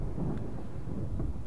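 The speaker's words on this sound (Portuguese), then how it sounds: "Por que não chove? Porque só tá relampiando, mas não chove." Thunder rumbling in the survival horror video game Fatal Frame, a low, soft, rolling boom that swells and fades over a second and a half, with no voices.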